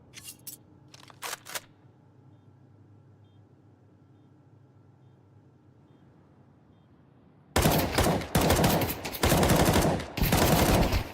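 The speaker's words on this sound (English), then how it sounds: "Struggling with the M4A4 at long range." An M4A4 rifle fires in a professional Counter-Strike match. A few sharp shots come early, then a quiet stretch, then loud sustained automatic bursts with short pauses between them.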